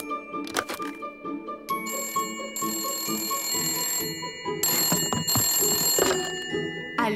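A cartoon telephone rings in repeated electronic bursts, bright and close, with short gaps between rings and no one talking.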